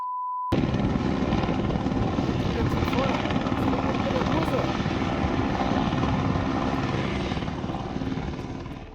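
A helicopter hovers near a mountain landing site, its loud, steady rotor chop and engine roar starting abruptly after a brief tone and holding close and constant before easing slightly at the end, with a voice audible beneath it.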